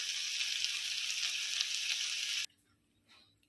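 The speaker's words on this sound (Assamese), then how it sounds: "প্ৰায় ভাজি হৈ গ'ল।" Bitter gourd frying in a pan gives a steady, loud sizzle that cuts off abruptly partway through, leaving near silence with a faint rustle.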